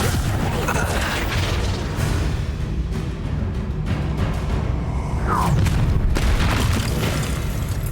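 An Incendio fire spell in Hogwarts Legacy erupts as a continuous roaring, booming blast with crackling bursts and rumbling, loud and dense throughout, swelling again near the end.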